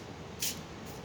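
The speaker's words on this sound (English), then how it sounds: "with the spray bottle a little bit" A spray bottle mists water onto a paper template in a single quick, soft hiss over a quiet room.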